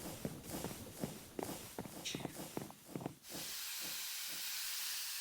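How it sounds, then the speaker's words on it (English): A steam engine boiler in Minecraft hisses steadily in the last two seconds, following a run of rhythmic chuffing or footstep-like thumps, all heard from fairly close. "That's the steam engine of a boiler."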